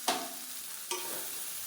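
Tomatoes with tamarind and roasted gram sizzle in a hot pan for a small-onion chutney, with two quick stirring scrapes over a soft, steady frying hiss.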